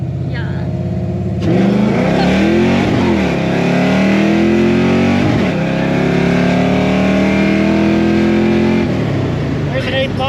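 V8 engine with a nitrous kit and Holley EFI on a dyno, rising through a loud, sustained rev with climbing engine harmonics for several seconds before dropping off, with voices faintly underneath.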